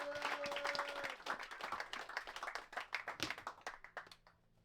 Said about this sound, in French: Merci d'applaudir Liam Michael.